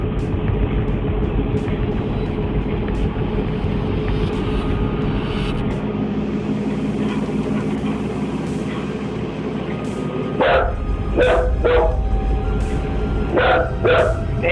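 A dog barks aggressively in a kitchen doorway, a burst of sharp, loud barks starting partway through and repeating in quick clusters over a steady low background rumble.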